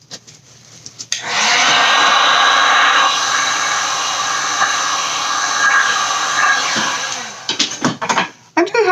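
A heat gun blows steadily over a clear resin puddle pour for several seconds, a loud continuous airy roar that cuts off, followed by a few clunks and handling noises.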